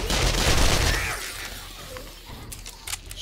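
Gunfire in the survival video game 7 Days To Die (Alpha 21), a loud, dense blast at the start that fades into a noisy tail, with a few sharp cracks near the end.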